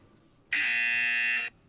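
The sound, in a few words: buzzer sound from online trivia platform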